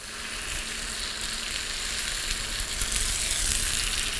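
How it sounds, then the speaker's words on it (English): Marsala wine sizzles loudly after it is poured into a hot pan of chicken cutlets and mushrooms, giving a steady, bright frying hiss that builds a little toward the end, with no talking over it. "Then what I do is I add my marsala wine to the pan."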